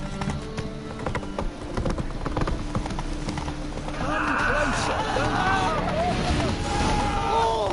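Roach, a horse in The Witcher 3: Wild Hunt, gallops with steady rhythmic clip-clop hoofbeats, near and fairly loud, over game ambience while a voice speaks.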